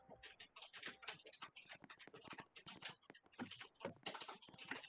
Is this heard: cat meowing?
no